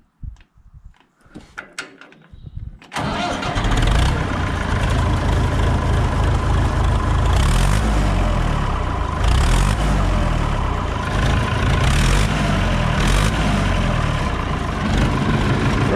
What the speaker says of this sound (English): If this is a loud enough tractor, you'll probably not be able to hear me once I start it.